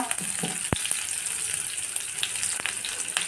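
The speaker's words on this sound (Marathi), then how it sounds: "मोहरी टाकून घेऊया थोडी जिरं मिरची कढीपत्ता" Mustard seeds, cumin, chili and curry leaves hit hot oil in a pan for a tempering, giving a close, steady sizzle with a few sharp pops over its short span.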